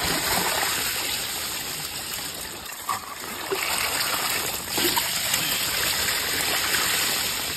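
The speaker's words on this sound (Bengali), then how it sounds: "এক বালতি জল ফেলাবো ছাঁকনিতে" Water from a bucket splashes and gushes through a sieve at a rain-soaked pond during fishing, a steady close pouring and splattering with a brief dip in the middle and no talk.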